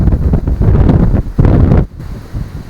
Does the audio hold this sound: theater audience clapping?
no